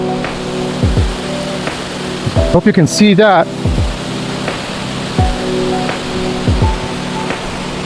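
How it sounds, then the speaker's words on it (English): At the top of Tumalo Falls in Oregon, the waterfall makes a steady broadband rush that fills the background. Someone speaks over it, and a bike rattles briefly midway. "Now we're right at the top of the waterfall here."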